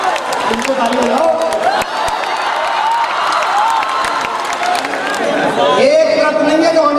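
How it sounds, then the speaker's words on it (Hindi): A Hindi poetry recital audience bursts into applause and cheering, a dense, loud wash of clapping and crowd noise mixed with a speaking voice over it throughout. "उनको ताली बजाओ"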